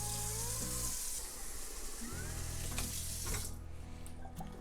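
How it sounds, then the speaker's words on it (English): Tap water pours steadily into a cooking pot being filled about an inch deep for steaming farm fresh eggs, a continuous splashing stream with a change in pitch partway through as the level rises. "we gotta get some water inside of this pot here"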